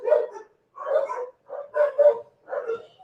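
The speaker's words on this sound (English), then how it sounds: "I'm sorry about the dogs, guys." Dogs bark in four or five short, muffled bursts at an irregular rhythm, moderately loud and alone without talk, as if from a nearby room.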